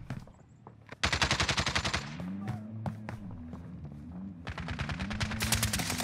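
Rapid automatic gunfire in Call of Duty: Modern Warfare, with fast bursts rattling almost continuously, first alone and then under faint in-game chatter, plus a few single heavier shots mixed in.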